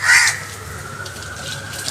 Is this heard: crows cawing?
yes